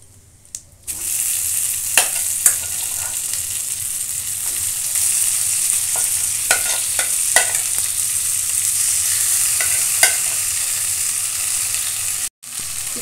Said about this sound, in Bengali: এটাকে নেড়ে চেড়ে আমি পুর তৈরি করে নেব।